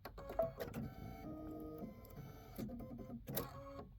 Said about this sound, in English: Once you press that button, your needle will thread.